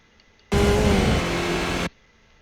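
A race car engine in iRacing, a Skip Barber car at Circuit of the Americas, roars in loud and close at full power, holding a steady high-revving drone for over a second before cutting off abruptly.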